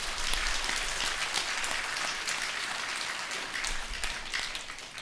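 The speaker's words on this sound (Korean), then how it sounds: "우리 하나님께 먼저 영광의 박수 올려드립니다." A church congregation applauds during an anniversary worship service in a sanctuary, giving sustained, dense clapping that holds steady and fairly loud for the whole stretch.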